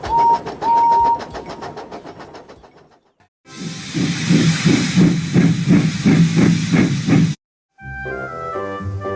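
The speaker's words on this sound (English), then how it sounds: "These are the sounds that the engines make." A musical whistle and rhythmic chuffing, then a loud hissing rush with pulsing beats like a steam engine, ending with a brief tuneful passage.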